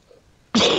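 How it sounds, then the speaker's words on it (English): A single sudden throat-clearing cough from a man in a radio studio, loud and close, breaking after a stretch of near silence. "Nothing like listening to coughing"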